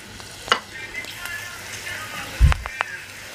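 Salted onions sizzle in a frying pan, with a steady hiss close by and a few sharp clatters and scrapes of a utensil against the pan.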